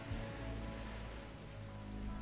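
Rain in RimWorld, a soft, steady hiss of falling drops with a low rumble underneath, faint and unbroken throughout.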